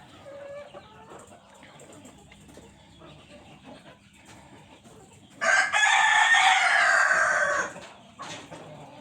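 A Kuchinsky Jubilee rooster crows once, loud and close, a drawn-out call of about two seconds after quieter clucking and faint farmyard sounds.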